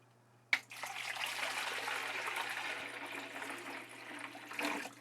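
Water pours into the reservoir of a countertop nugget ice maker, starting with a sharp onset and then running as a steady, fairly quiet splashing stream for several seconds, with a brief louder surge near the end.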